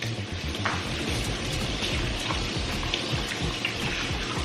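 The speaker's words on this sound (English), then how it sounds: "Again, a hand wash." Water running from a tap onto hands being washed in a kitchen during Thanksgiving meat preparation, a steady close splashing patter with small irregular splashes and no pauses.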